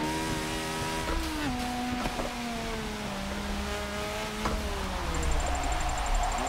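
A drift car in the Forza Motorsport 7 racing game, driven in the rain, with a steady, sustained engine drone whose pitch shifts through revs and gear changes while tires squeal faintly underneath, loud and continuous.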